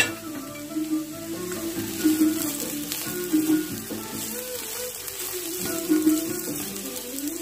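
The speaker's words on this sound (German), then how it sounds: "Und da wird mit Zwiebeln noch mal ein bisschen angebraten." Finely diced vegetables and onions sizzle and fry steadily in a pan with oil, a close, continuous crackle with occasional stirring and no talking.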